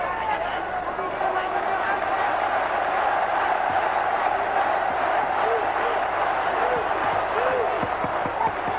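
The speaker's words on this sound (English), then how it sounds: "the chanting of the crowd now" A boxing crowd at the WBC flyweight title fight between Sot Chitalada and Gabriel Bernal keeps up a loud, steady chant and roar throughout, with rising cries cutting through the dense wall of voices.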